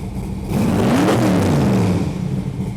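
Up close at the exhaust pipe, a hot rod engine revs hard, its exhaust roar climbing and falling in pitch before settling back to a loud idle.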